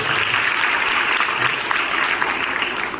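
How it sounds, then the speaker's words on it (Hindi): A college audience at a spiritual gathering gives sustained applause, a loud, even roar of many hands clapping at once with no break from start to finish. "एक बार अपने विद्यालय के लिए तालियां जरूर दें।"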